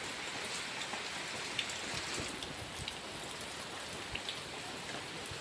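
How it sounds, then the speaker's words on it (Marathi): Rain falls steadily on tiles at a house under construction in Konkan, a soft even hiss with scattered faint drops and taps, fairly quiet and with no voices. "आणि आता पाऊस पडत आहे"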